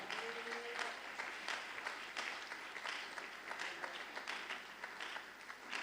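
Church congregation applauding and cheering in praise during a worship service, a sustained dense wash of clapping with crowd voices, steady and fairly distant throughout.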